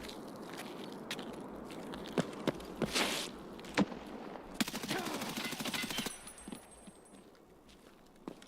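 Gunfire in the video game Escape from Tarkov: scattered sharp single shots, then a dense automatic burst around the middle, mixed with footsteps and handling clatter, fairly close.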